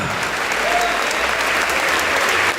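A church congregation applauds steadily and loudly throughout, a dense wash of clapping with no break.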